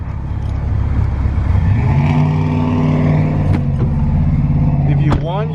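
A Honda Civic Si engine runs steadily and close, then pulls away on a short test drive, its low drone holding before a brief rise near the end, with talk over it.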